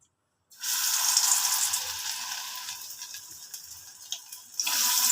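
Bhetki fish balls sizzle steadily in hot oil in a wok, a loud continuous frying hiss that eases slightly midway and swells again near the end.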